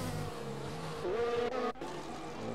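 Formula 1 race cars in an RSF1 league racing game at Abu Dhabi drone with a continuous high engine whine, the pitch rising and dipping as they shift and corner, loud and unbroken.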